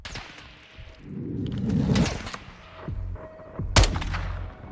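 Sniper rifle shots ring out in Call of Duty: Modern Warfare 2 on a night rooftop mission, two sharp cracks a couple of seconds apart with a whooshing swell between them and no speech over it.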